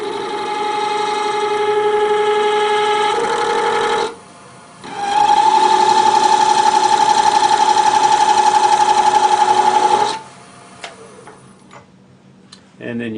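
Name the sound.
rotating Dremel tool burr texturing wood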